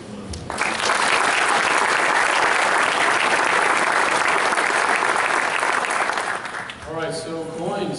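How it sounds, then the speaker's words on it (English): A crowd at a Star Wars convention panel breaks into loud, sustained applause and cheering that swells in quickly, holds strong, then dies away as a voice begins talking. "Everyone can just give them a round of applause."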